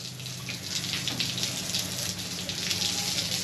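Water runs steadily from a tap for dogs at a home in Cà Mau, a continuous close gushing hiss with no voices over it.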